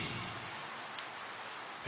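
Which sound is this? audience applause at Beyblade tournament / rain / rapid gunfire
rain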